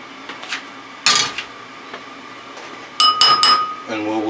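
An egg is whisked in a bowl while making a fried egg, with two short bursts of clear clinking taps against the bowl and a quiet kitchen background between them.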